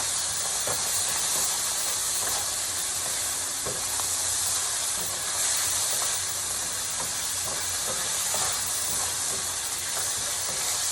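Bacon browning in a pan for pork belly kimchi fried rice, a dense continuous hiss and sizzle held at an even level throughout with faint small pops.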